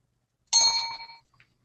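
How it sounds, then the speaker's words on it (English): A single clear bell ding rings out loud and close, its bright metallic tone decaying over about half a second, followed by a faint small tick, with no talking. "likes to ring that bell"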